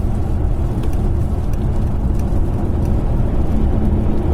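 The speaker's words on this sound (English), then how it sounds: "That little 4-cylinder engine bashing away quietly" A small four-cylinder car engine drones steadily at motorway speed, a low muffled hum mixed with road and wind rumble, heard from inside a well-insulated cabin with no talking.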